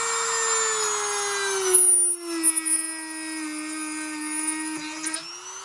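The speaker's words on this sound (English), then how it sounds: "the drill bits have no problem going through wood" A DEPSTECH rotary tool, a low-cost Dremel alternative, drills through a piece of wood with a high, steady whine, its pitch dipping and wavering as the bit bites into the workpiece, close and loud.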